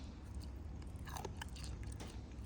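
Close, quiet crunching as someone chews fried Thai sour pork sausage (naem) with soft rib bones and fresh chili, several crisp bites in quick succession.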